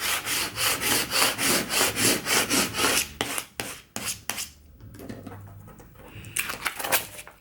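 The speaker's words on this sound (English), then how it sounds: "Let's go ahead and burnish it." Decal vinyl is burnished onto a pantry label with a scraper, giving a quick run of rhythmic rubbing strokes, roughly a dozen even scrapes, then a few slower scattered rubs and taps at close range.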